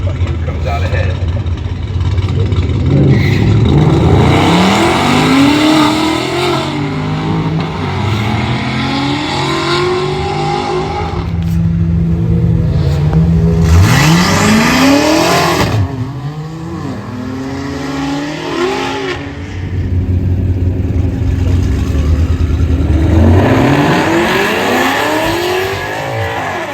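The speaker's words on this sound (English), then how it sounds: "BMW taking out a Mustang, this is going to be a surprising race record." A 1,000-horsepower BMW X6M SUV races a Mustang, with engines revving hard and sweeping up and down through the gears at close range, a brief drop mid-run, and voices talking underneath.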